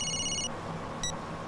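A telephone rings indoors in two short electronic bursts separated by a pause, clear and close with nothing else over it.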